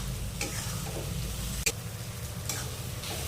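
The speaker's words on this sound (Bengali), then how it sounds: "এবার পেঁয়াজের সাথে মশলাটা ভালো করে কষিয়ে নিতে হবে" Spices and onion being sautéed and stirred in a pan for a Bengali fish curry, with a steady close sizzle throughout and a few sharp scraping clicks of the spoon against the pan.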